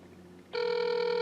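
A phone call ringing through an ET482 smartwatch tethered by Bluetooth: after a half-second of low hum, a steady electronic ring tone starts abruptly and holds loud and continuous to the end.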